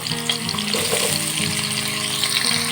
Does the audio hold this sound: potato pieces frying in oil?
yes